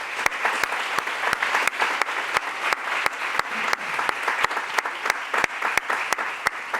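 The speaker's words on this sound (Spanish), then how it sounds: "daros la enhorabuena y un gran aplauso" Audience at a public talk in Ciudad Real gives continuous close applause, with a few sharp individual claps standing out, and no talking.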